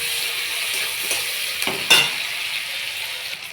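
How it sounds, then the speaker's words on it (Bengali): Chopped onions and garlic fry in oil with whole cumin, a close steady sizzle broken by a couple of sharp scraping stirs near the middle. "ভাজা ভাজা হয়েছে পেঁয়াজগুলো, ভাজা ভাজা হয়ে গেছে।"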